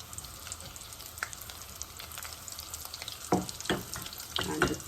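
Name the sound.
falafel frying in oil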